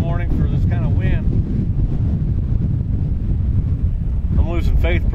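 Heavy wind blasting across the microphone outdoors during a coyote hunt, a constant low roaring buffet throughout, with someone talking over it at the start and end.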